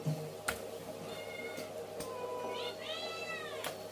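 A cat meows a few times, thin rising and falling cries close by, with a few sharp clicks and knocks in a quiet room.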